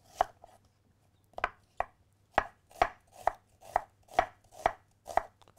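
Knife chopping onion and parsley on a cutting board for a rustic polenta dish, about a dozen crisp, evenly spaced strikes, close and clear with no talk over them.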